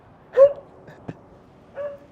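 Dog giving two short, close whimpering yips about a second and a half apart, with a brief soft click between them, in an otherwise quiet indoor room.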